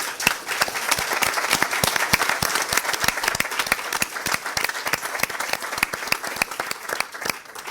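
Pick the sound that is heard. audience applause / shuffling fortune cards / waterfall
audience applause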